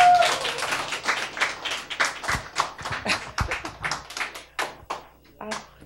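A studio audience claps to welcome guests walking onstage at a Korean televised human-interest show. The applause is lively and uneven, with individual sharp hand claps standing out and a host's voice breaking in near the end.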